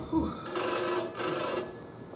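An old-fashioned telephone bell rings in two bursts inside an office at six o'clock closing time, fairly close and loud with a short gap between rings.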